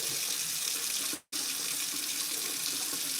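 Tap water runs steadily and loudly into a sink while lettuce is washed, a dense continuous splash briefly cut off once before resuming.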